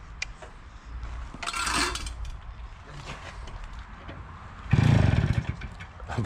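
A restored Flandria Comet moped's small two-stroke engine sputters and revs in short uneven bursts, briefly idling between them, with the loudest rev near the end; no one speaks.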